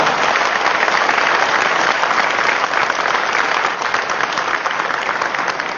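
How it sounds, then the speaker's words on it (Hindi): Loud, dense clapping from a seminar audience in a hall, a continuous sustained round of many hands at once with no talking over it. "अपने दिल को मजबूत बनाने के लिए जोरदार ताली बजाइए"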